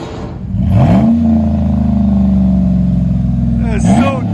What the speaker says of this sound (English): put it in park, give it gas again